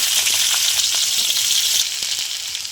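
Pointed gourd pieces fry in hot oil in a wok, giving a steady, close, even sizzle with faint crackles throughout and no talking.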